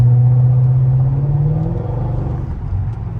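Engine revving on a 2006 Mercedes SL500 R230 with the resonators and mufflers removed and the catalytic converters kept, a loud deep exhaust drone that rises in pitch, then settles into a rumbling idle.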